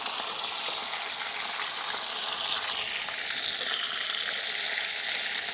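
Chicken frying in a pan over a very low flame, a steady bright sizzle with soft stirring scrapes, close and continuous throughout.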